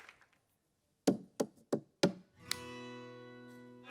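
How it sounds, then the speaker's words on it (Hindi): Rhythmic tapping on a bottle and glass by a performer on a comedy show: four sharp knocks, then a struck ringing tone that sustains and slowly decays, preceded by faint talk. "ऐसे वो आपका कोई बोतल ग्लास के साथ टक टक टक टक, बहुत कमाल करते हैं"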